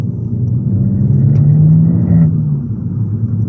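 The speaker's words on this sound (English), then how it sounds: "And in second gear, you do get a nice cluster of pops." An Abarth with a Toyosports exhaust rumbles in second gear, a steady low engine drone with a brief crackle of pops in the middle, heard from close by with no voices.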